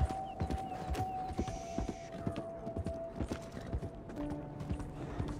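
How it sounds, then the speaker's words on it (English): Horse hooves in the Red Dead Redemption 2 video game, a steady clip-clop trot close by, moderately loud, with a faint tonal hum in the background. "Toma una zanahoria, caballo."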